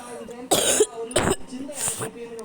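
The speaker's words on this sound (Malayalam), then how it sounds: "എനിക്കപ്പം ഇതേപോലത്തെ ഒരു ചുമയാണ് എനിക്ക്." Several harsh coughs come in quick, separate bursts, close and fairly loud, with a throaty, rough quality, from a person with a cough.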